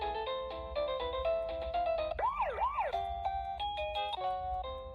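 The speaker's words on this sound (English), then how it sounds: "You can also change the ringtones." A wireless caregiver pager plays a bright electronic ringtone: a rapid melodic run of beeps broken by a swooping siren-like warble, steady and fairly loud, with no talk.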